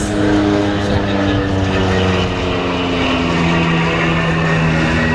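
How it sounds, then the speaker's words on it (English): A Decathlon propeller aerobatic airplane drones steadily and fairly loud, its engine tone wavering slightly as it flies, often upside down. "Notice how much John flies this airplane upside down."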